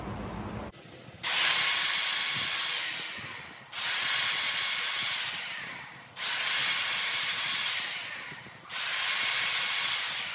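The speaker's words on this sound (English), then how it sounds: "Just have to sand up the bottom." Sanding the bottom of a red cedar bowl on a wood lathe: a loud, broad hiss in repeated passes of about two seconds each, each swelling and then easing off, with no talking.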